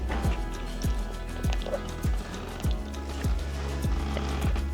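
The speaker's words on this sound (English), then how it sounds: "Get a little drink." A person drinks water, with a steady series of about eight rhythmic gulps, each a soft low thump roughly every half second, heard up close.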